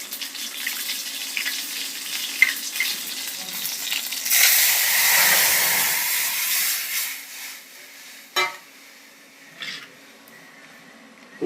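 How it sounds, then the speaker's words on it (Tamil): A pot of thuthuvalai rasam with tomato heats toward a boil, giving a loud, steady sizzling hiss that swells and fades, followed by a few sharp metallic clinks of a utensil. "இப்போது கொதி வரணும் ரசம்."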